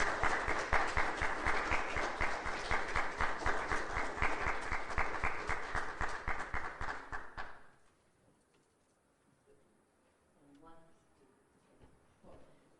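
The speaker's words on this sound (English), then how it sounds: "If you will help me with a round of applause for our teachers" Applause for teachers: a burst of fast, regular clapping, loud and close, runs for several seconds, then cuts off abruptly to near quiet, with faint sounds near the end.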